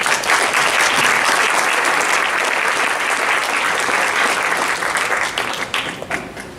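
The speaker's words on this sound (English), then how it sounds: "Maybe one more round of applause for our student stars." Audience at a conference gives sustained, dense applause for student presenters, loud and continuous for several seconds before gradually thinning toward the end.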